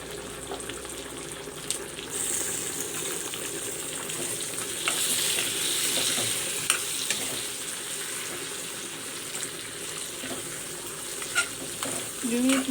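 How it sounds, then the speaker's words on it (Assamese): Large salted fish pieces fry in hot oil in a pan, a steady, moderately quiet sizzle with occasional clinks and scrapes of a spatula as they are turned. "মাছখন ধুনীয়াকৈ ভাজি ল'ব লাগিব।"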